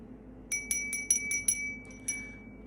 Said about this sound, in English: I forgot to ring your bell.